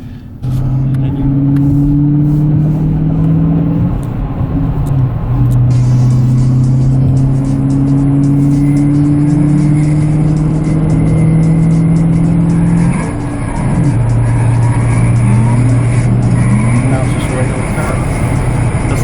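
A 2023 Dodge Challenger accelerates from inside the cabin, its engine droning loud and rising in pitch through repeated gear changes, with a steady road roar and voices talking over it.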